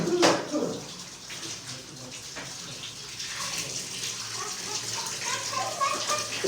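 Garlic leaves washed in water in a home kitchen, a steady running and splashing wash that continues throughout at moderate level.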